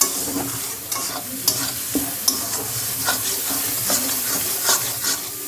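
Two eggs being stirred and sautéed in a pan while cooking a restaurant-style tarka, with close, steady sizzling broken by repeated scraping spatula strokes and a few sharp clinks; no voices.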